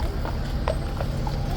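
Hooves of a large horse at Horse Guards in London clip-clopping on pavement amid traffic, a few soft irregular knocks under steady street noise.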